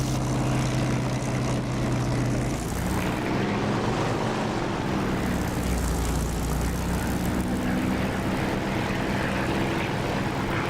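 An aircraft landing in the DCS flight simulator game, with a continuous engine drone and rushing noise that shifts in pitch partway through, loud and steady throughout.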